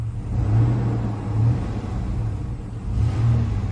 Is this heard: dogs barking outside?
no